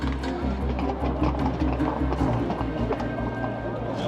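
Hooves of a Garde Républicaine mounted unit horse clip-clop in a quick, uneven patter, up close to a crowd whose steady murmur of voices fills the background.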